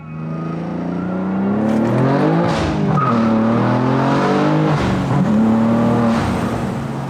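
A loud aftermarket Fi exhaust on a BMW G87 M2 roars steadily, engine revs rising and falling through gear changes with a deep, booming tone.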